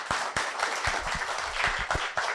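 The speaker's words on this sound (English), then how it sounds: "So please give them both a round of applause." Audience applause for a moderator and a guest at a leadership panel event, a steady, moderately loud round of clapping with a few sharp individual claps standing out.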